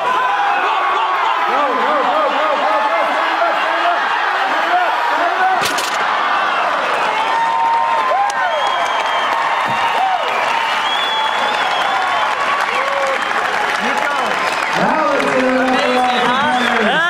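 A crowd at a 2009 men's Games deadlift event cheers and applauds a lifter's personal record, a loud, continuous wash of clapping and shouting with voices talking over it throughout.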